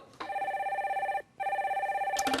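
A telephone rings on a connecting call-in line, two electronic warbling bursts split by a short gap, steady and moderately quiet, with no speech over it.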